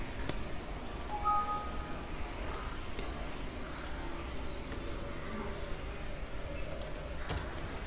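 Fingers tap on a computer keyboard while an Excel VBA macro is typed. The clicks are faint and irregular against a steady background hiss.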